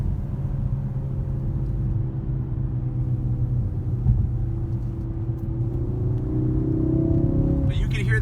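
A 2017 Honda Civic Type R engine drones steadily and close while driving, a low continuous rumble that climbs slightly in pitch near the end as the car accelerates.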